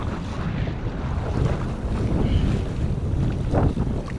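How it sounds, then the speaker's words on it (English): Steady wind gusts across the water while kayaking in a WS Pungo 120 on the windward side past a bridge, a continuous close, loud rush of wind noise buffeting the microphone with faint lapping water beneath. "probably get hit a little more wind once we get on the other side of the bridge"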